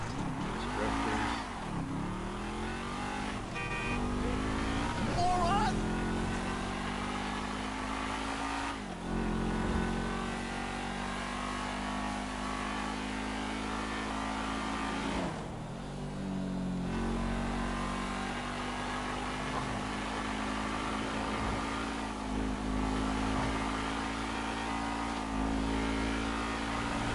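Drifting cars in a video game rev their engines in a continuous, steady roar with repeated rising and falling revs and no talking over it.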